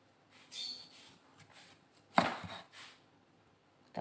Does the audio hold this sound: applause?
no